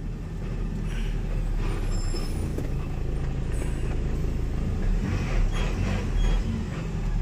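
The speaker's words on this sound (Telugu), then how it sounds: "మొత్తం సిమెంట్ లారీలు" Heavy cement lorries rumble past on a road near a roadside hotel, with loud air-brake hisses and engine drone continuing steadily and close by throughout.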